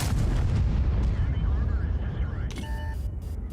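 Artillery fire in the World of Tanks video game, a loud booming blast with a rumbling tail that fades over a few seconds as someone talks over it.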